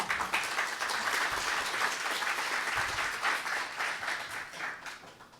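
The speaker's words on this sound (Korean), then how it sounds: "박수 한번 주십시오." An audience at a debate forum breaks into warm, continuous applause, dense and fairly loud throughout, tapering slightly as it ends.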